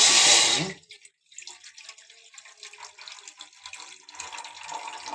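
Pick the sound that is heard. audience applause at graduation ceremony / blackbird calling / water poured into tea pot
water poured into tea pot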